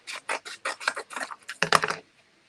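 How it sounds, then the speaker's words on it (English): Trimming a patriotic craft box gives a string of short, dry rasping strokes in a quick regular rhythm, close and fairly loud, ending in a denser scraping burst before falling quiet. "All right, I'm gonna trim this."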